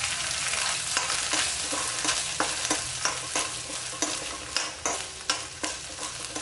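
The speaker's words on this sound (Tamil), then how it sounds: "இப்போ தேங்காயும் வறுத்துக்கலாம்" Grated coconut roasting in a pan for Chettinad kuzhi paniyaram, with a steady dry sizzle and repeated scraping strokes of a spatula, some sharp and close, in a rough stirring rhythm and no talk.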